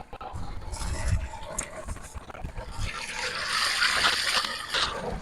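Water splashes and gushes as live fish are released into an earthen fish pond on an integrated farm near Ibadan, Oyo State, with a voice speaking over it and a louder sustained splash toward the end.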